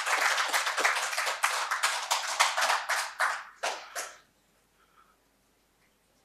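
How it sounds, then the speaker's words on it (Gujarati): Audience applause at a Gujarati literary event welcoming speakers to the stage, a burst of many hands clapping close and dense, fading out after about four seconds into near silence. "આપણે વક્તાઓનું સન્માનપૂર્વક ખૂબ તાળીથી અભિવાદન કરીશું"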